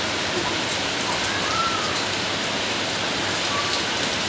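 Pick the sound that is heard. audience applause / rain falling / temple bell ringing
rain falling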